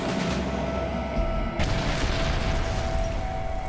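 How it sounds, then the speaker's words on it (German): A deep boom from a reenacted airliner crash and explosion, a 1979 Chicago air disaster, bursts out midway through an ongoing rumble and then settles into a sustained roar. "schlägt die linke Flügelspitze am Boden auf. Das Flugzeug explodiert."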